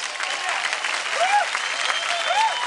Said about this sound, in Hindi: इसी बात पे जोरदार तालियां हो जाए